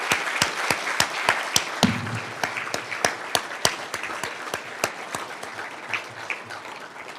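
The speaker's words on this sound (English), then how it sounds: "please give our graduating students a warm round of applause" Audience applause for graduating students at a department awards banquet comes as crisp, fairly regular claps that build and then thin out toward the end.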